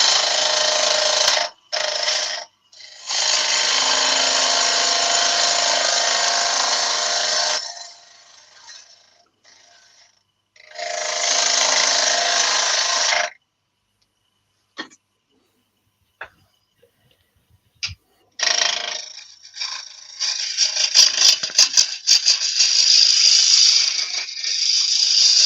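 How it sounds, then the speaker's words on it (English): A roughing gouge cuts yew wood spinning on a lathe, making loud rasping bursts of several seconds each, separated by near-silent pauses and a few clicks, with a longer rougher stretch toward the end. "Roughing gouge gets rid of that a bit quicker."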